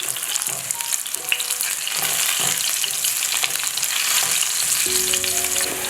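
Chicken pieces frying in a hot pan for a Chinese fried chicken dish, a loud, steady, close sizzle with occasional stirring scrapes and no voices.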